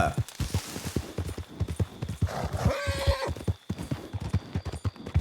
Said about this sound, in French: c'est pas Yeti du tout, c'est le cheval de Kimberly